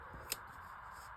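A single quick snip of scissors trimming card for a handmade card, faint and close, with a brief crisp cut and quiet room tone around it.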